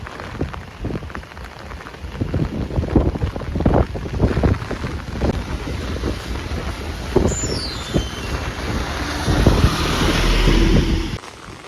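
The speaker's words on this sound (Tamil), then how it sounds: "பார்த்தீங்களா காற்று எப்படி அடிக்குது" Gusty storm wind buffets the microphone, rumbling in uneven surges, mixed with the patter of heavy rain, among palm trees in Jaffna.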